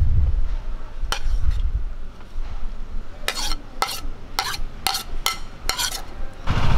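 Chopped onion, ginger and okra being stirred into lentil vada batter with a spoon, giving a soft wet squelching base broken by a series of sharp clinks of the spoon against the bowl, close up with no talking.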